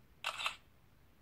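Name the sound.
smartphone camera shutter sound effect, Vernee X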